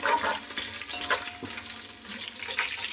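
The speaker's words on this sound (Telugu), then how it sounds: "బిర్యానీ ఆకు ఇవన్నీ వేసి లైట్గా వేయించుకోవాలి" Cinnamon, cardamom and bay leaf fry lightly in hot oil for bagara rice, a soft continuous sizzle with small crackles heard up close with no voices.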